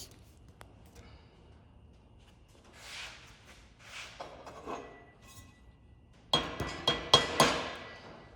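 A hammer taps a metal plug down into a square hole on a curved metal sofa table repair, with a few faint knocks early on, then a cluster of five sharp, close metallic strikes in quick succession near the end.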